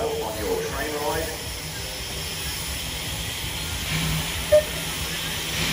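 A Thomas the Tank Engine steam locomotive at a heritage railway event rolls past a carriage, giving off a steady, loud hiss of steam that fills the whole stretch, with a short sharp burst near the end.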